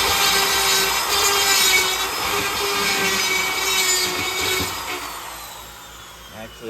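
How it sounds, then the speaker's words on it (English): A rotary file grinds metal beside a weld to make clearance for a bolt on a battery box for a junkyard Jeep, a steady, close, rasping whine that holds for several seconds, then eases off near the end. "I'm going to kind of rotary file this just a little bit for a little more clearance for the bolt where my weld is."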